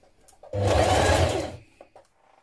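A sewing machine runs a single steady burst of about a second, top stitching a turned-under jeans pocket, then stops with faint handling clicks after.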